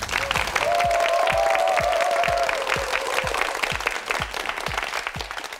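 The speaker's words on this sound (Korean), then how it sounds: "박수 보내주십시오." Studio audience on the Korean TV quiz show Urimal Gyeorugi breaks into sustained, loud applause, a dense wash of clapping that carries on through the whole stretch, with a brief voice and a rhythmic low thumping beneath it.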